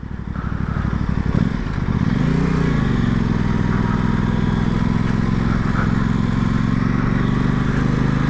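A 2021 Aprilia Tuono 660 motorcycle engine pulls steadily while riding, its close, loud drone rising in pitch around the two-second mark and then holding an even, sustained hum with wind noise.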